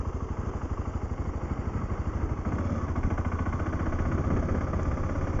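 2009 BMW G650GS single-cylinder motorcycle engine running, a steady close thumping pulse that quickens slightly as revs build, with no talk.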